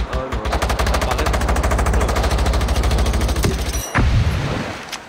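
Rapid, loud automatic gunfire in the video game Generation Zero, a dense continuous stream of shots close up, ending in a heavier blast and echo.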